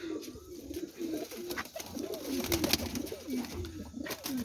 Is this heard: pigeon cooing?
yes